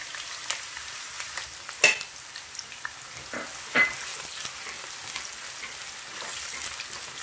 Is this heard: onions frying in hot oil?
yes